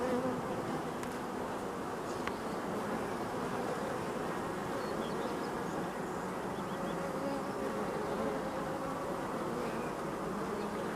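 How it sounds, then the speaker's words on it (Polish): A dense, steady drone of many honeybees at a hive after a second swarm, continuous and fairly close, with no voices over it. "po drugim wyrojeniu masę tych pszczół tu wróciło niestety"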